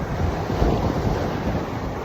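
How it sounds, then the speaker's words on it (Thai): Strong, steady wind gusts at the Pattaya seaside roar into the microphone as a continuous, loud rush with a constant broadband hiss and no talk. "ลมแรงจริงๆครับ แดดจ้านะครับ แต่ว่า ลมแรงนะครับเลยไม่ร้อนครับ"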